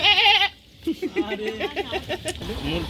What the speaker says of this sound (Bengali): ছাগল ছাগল ছাগল।